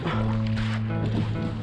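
Kayak paddle strokes in the water during a fishing trip, a couple of hard sloshing pulls close by with gurgling splashes, under a low steady hum.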